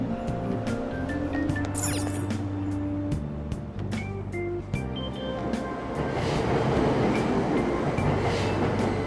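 A commuter train in Persona 5 Royal sits at a Tokyo station, its doors shutting before it pulls away with a rising rumble and rattling wheels. The sound is steady and close, with musical tones running under it.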